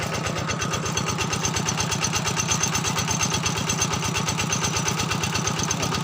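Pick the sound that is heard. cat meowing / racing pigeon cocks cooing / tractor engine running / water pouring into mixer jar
tractor engine running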